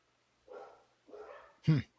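Dogs barking indoors at someone at the front door: three short muffled barks, the last one sharper and louder, heard faintly in the background.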